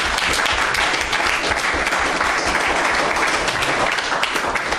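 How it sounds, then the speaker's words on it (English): Crowd applause for the Black Stars, Ghana's national football team: dense, steady clapping from many hands sustained throughout, loud and close, with no voices standing out. "Let's clap for the Black Stars."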